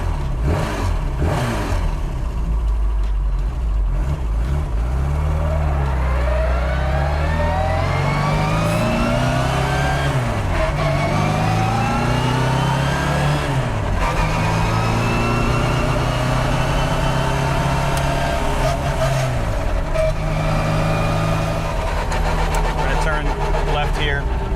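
A 1965 FIA-registered rally Mini Cooper S drives on, its engine revving and climbing through gears with rising and falling pitch, up close and steady throughout, while a person talks over it.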